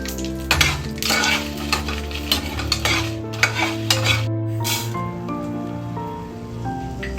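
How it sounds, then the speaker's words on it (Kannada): Byadgi chillies and whole spices frying lightly in two spoons of oil for Goan fish curry, a close crackling sizzle broken by repeated spoon-on-pan clinks and stirring, with background music. "ನಮ್ಮ ಇಂಗ್ರೀಡಿಯೆಂಟ್ಸ್ ಏನಿದೆಯೋ ಅದನ್ನು ಸ್ವಲ್ಪ ಲೈಟಾಗಿ ಫ್ರೈ ಮಾಡೋಣ"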